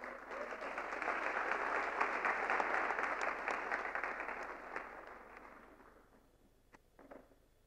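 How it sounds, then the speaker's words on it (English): Sustained audience applause at an international women's conference, a dense wash of many hands clapping that holds steady, then thins out and fades to scattered claps near the end. "let's welcome her to stage with a round of applause"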